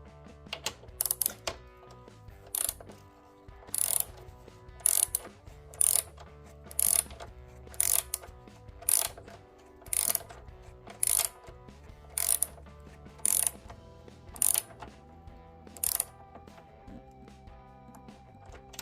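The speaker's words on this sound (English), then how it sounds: "Going to be using 14 mil socket extension, 15 millimeter ratchet." A 15 mm ratchet driving a 14 mm socket extension tightens saw mounting bolts on a Ryobi foldable miter saw stand, giving a series of crisp clicking ratchet strokes in regular bursts, close and clear over a quiet background.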